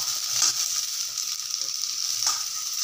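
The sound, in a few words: green chillies sautéing in a pan for kurma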